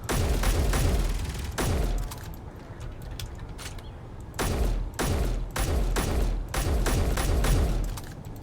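Gunfire at a base in the Space Engineers video game: heavy bursts of rapid shots and booms in repeated volleys with short pauses between, loud and close.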